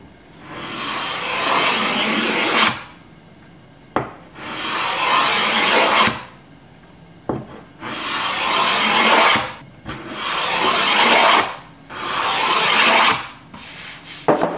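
Repeated rough scraping strokes as varnish is scraped off wood, five long passes with short pauses between, close and loud, no voices.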